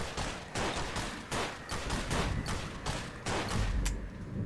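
A gun in a video game dumps a full magazine in a steady, rapid string of loud, close shots that runs for several seconds before stopping.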